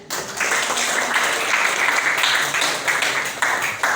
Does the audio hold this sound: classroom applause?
yes